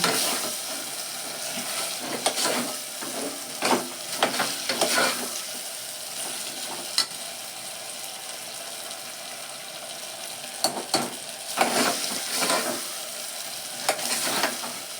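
A large eggplant frying in a pan, with steady sizzling punctuated by scraping stirs of a spatula in bursts; no talking.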